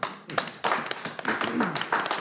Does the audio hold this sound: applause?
yes